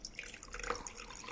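Water is poured into a glass holding blue food colouring, a brief close trickle and splash with faint dripping, heard alone without talk.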